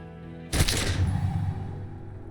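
A single loud gunshot from the video game Disco Elysium cracks out suddenly, then a long rumbling echo and decay rings on for nearly two seconds over a faint backdrop.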